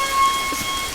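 Steady rain pours down through a rainy-season scene in a South Indian action film, an even wash of falling water with a faint tonal hum behind it and no talk.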